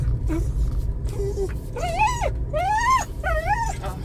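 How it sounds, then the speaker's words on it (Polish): A dog whines and whimpers close by, a series of rising, drawn-out cries of growing length over a low rumbling background. "Idziemy z pieskiem na spacer."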